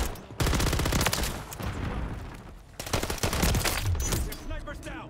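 Dense, rapid automatic gunfire from Modern Warfare 3 with a RAM 9 rattles in fast continuous bursts, loud and close, with a brief gap in the middle.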